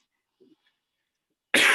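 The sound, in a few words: cough from someone recovering from bronchitis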